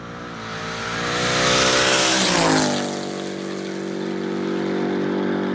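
A twin-turbo Ford Mustang S550 makes a wide-open-throttle pull, its engine roaring loudly as pitch climbs sharply, peaking, then dropping back into a steady lower drone as the car passes close by.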